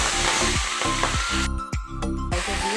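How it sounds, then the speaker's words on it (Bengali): Malabar spinach sizzles loudly in hot oil with garlic and torn green chili, steady frying hiss broken by rhythmic scraping stirs, close and continuous with no talking. "শাকটা একটু ভালো করে নাড়াচাড়া করে ভেজে নেব"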